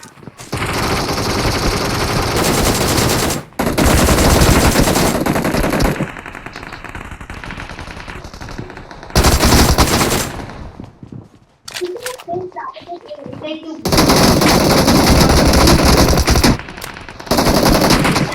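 Gunfire in a battle royale mobile game: long bursts of loud automatic fire with short breaks and single shots, under players' excited talk throughout.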